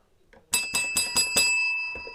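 Bicycle bell rung about five times in quick succession, each bright metallic ding overlapping into a shimmering ring that fades out, loud and close with no talking.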